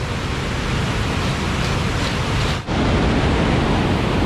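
Tad Sae waterfall near Luang Prabang, Laos, gives off a loud, unbroken roar of rushing water that fills the air, steady and close, with one brief dip in volume partway through.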